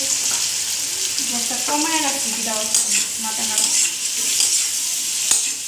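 Pointed gourd (potol) sizzles steadily in hot oil in a pan, a continuous close frying hiss with occasional stirring scrapes, while a voice talks faintly in the background.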